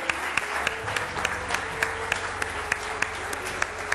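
A television studio audience at an Iftar show applauds its guests, dense sustained clapping filling the whole stretch with no voices over it.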